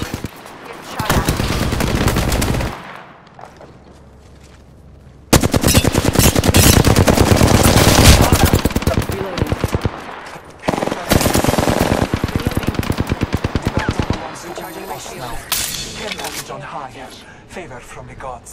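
Rapid bursts of automatic gunfire from the video game Apex Legends, loud and dense, broken by a short quieter gap, then sustained firing with clicks and mechanical sounds.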